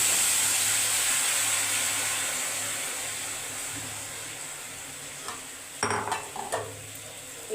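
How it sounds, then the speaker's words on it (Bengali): Marinated mango pieces with salt and sugar are added to fried peanuts in a karahi for pickle, making a loud steady hiss that fades slowly before a few clattering stirs and scrapes near the end. "এবারে এই বাদামের উপরে আমটা দিয়ে দিই।"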